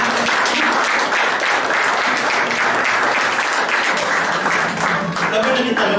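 Loud, sustained audience applause for a live band at a fado concert, dense clapping with some voices mixed in underneath.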